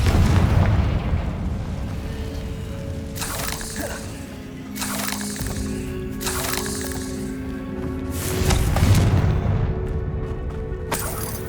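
A Confringo blasting spell in Hogwarts Legacy sets off several booming explosions, each with a broad bursting crack. They fall at irregular intervals over a low, steady rumble of game ambience.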